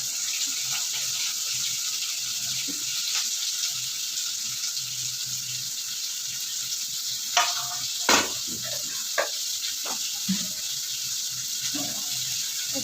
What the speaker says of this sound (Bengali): অল্প তেলে রান্না করছি বলে আগে এই পেঁয়াজটা আর টমেটোটা একটু ভেজে তারপরে দেবো চিকেনটা